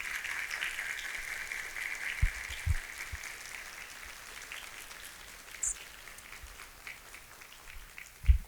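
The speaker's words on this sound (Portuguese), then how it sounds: "eu queria pedir aos formandos que dessem uma salva de palmas para todos que participaram da caminhada" Graduates at a technical course certification ceremony applaud in a hall, a steady soft patter of clapping spread throughout the room.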